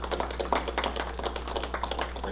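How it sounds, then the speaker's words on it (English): A round of applause at a school board meeting rises as a steady patter of many hands clapping, fairly faint over a low room hum. "How about a little round of applause?"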